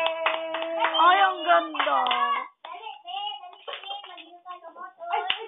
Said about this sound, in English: Clap your hands kay mama.